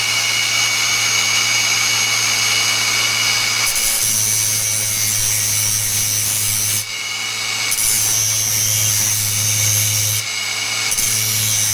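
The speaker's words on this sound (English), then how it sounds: "I'm just going to grind a little flat spot on here so that I can line a drill up" Angle grinder cutting a flat spot on a metal shaft from a pressure washer, a steady loud whine with brief pauses and restarts, no talking.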